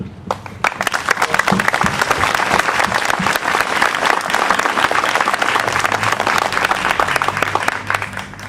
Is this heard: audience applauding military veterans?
yes